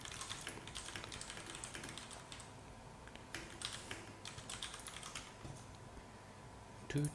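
Steady typing on a computer keyboard, rapid irregular key clicks continuing throughout at a moderate, close distance over a faint background hum, with no talking.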